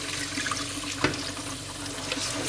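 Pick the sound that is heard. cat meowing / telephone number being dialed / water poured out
water poured out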